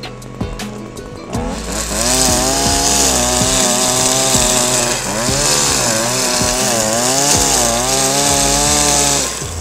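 A two-stroke brush cutter spins nylon cord through grass, its engine revving steadily at high speed with shifting whine as the line bites, loud and close for nearly ten seconds with no talking.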